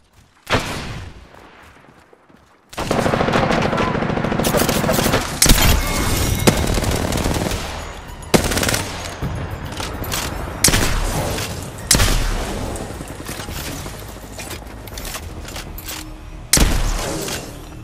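Sustained bursts of automatic gunfire from Apex Legends, loud and close, with heavy repeated volleys and booming impacts after a short quiet opening, continuing almost without pause.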